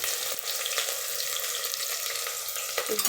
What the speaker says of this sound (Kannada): ಇದ್ರಿಗೆ ಈರುಳ್ಳಿ ಮತ್ತು ಮೆಣಸಿನ್ಕಾಯಿ ಹಾಕ್ಕೊಳ್ತಾ ಇದ್ದೀನಿ. ನೋಡಿ ಈ ಥರ ಸೌಂಡ್ ಬರಬೇಕು.